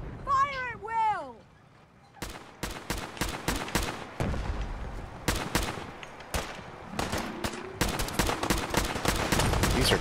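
Gunfire in Fallout 4 during a fight with gulpers: a shouted voice opens, then dense, rapid shots crack up close in an irregular barrage, some overlapping into a continuous clatter.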